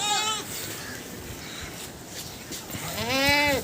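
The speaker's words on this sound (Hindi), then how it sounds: "ये बकरा है, सफ़ेद रंग का बकरा है" A white goat for sale as a Qurbani animal bleats loudly and up close at the start and again at the end, with quieter low background noise in between and no talking.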